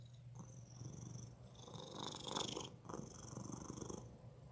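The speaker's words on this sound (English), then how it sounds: "It's a matter of editing some more recordings of him purring," A cat purrs close to the microphone: a continuous, soft, rhythmic rumble that swells and ebbs with each breath over several seconds, heard alone without talk.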